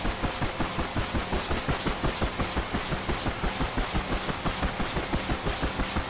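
A Huey helicopter engine spooling up in a VR flight simulator: a fast, regular rhythmic chopping and whine that pulses evenly and steadily throughout, fairly loud and close, with no talking.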